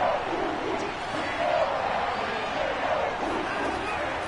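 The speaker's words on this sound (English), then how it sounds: "the crowd getting into it as we come up on a big third down" A football stadium crowd roars before a big third down, a steady broad wash of cheering and yelling that holds for several seconds.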